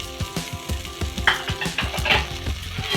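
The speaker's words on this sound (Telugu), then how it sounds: "ఇప్పుడు వీటన్నిటిని ఫ్రై చేసుకుందాం" Spices and ingredients for a black-eyed pea curry fry in a pan with a steady, close sizzle, broken by regular scraping and stirring strokes of a utensil, with no talking.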